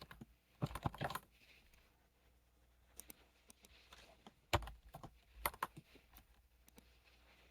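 Sparse, quiet keystrokes on a computer keyboard as a change-directory command is entered, with short clusters of clicks separated by pauses, close-up over a faint room hush.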